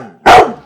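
A single loud, sharp dog bark near a house doorway, one short burst standing alone against quiet surroundings.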